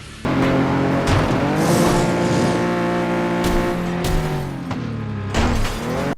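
Race cars from the video game Flatout 2 roar continuously up close, engines rising and falling through gear changes with bursts of tire squeal and skidding.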